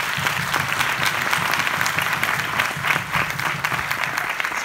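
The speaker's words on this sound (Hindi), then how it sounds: "एक बार मिल्खा सिंह जी के लिए ताली बजाएं" An audience at an MLM training session claps enthusiastically for Milkha Singh, a loud, dense burst of applause lasting several seconds with a faint voice underneath.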